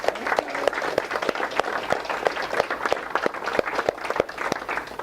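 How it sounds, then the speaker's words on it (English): An audience at a meetup claps for Judy, a dense run of brisk, close claps that holds steady for several seconds with faint voices underneath. "Let's give Judy a huge round of applause"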